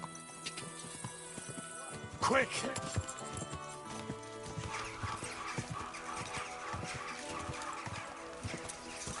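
Horse hooves clip-clopping in the video game Kingdom Come 2, a quick rhythmic trot at moderate level beneath game music, with a brief snort near the start and a voice shouting.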